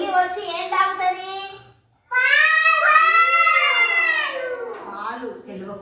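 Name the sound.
cat meowing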